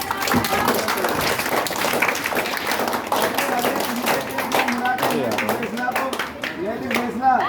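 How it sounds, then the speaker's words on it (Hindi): Crowd at a local election gathering claps for a candidate, a loud, fast rush of many hands with voices and chatter mixed in throughout. "ऋषभ के लिए ताली बजाओ।"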